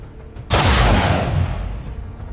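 Gunfire in XCOM 2: War of the Chosen: a sudden loud burst of rapid shots erupts, then a rumbling tail slowly fades.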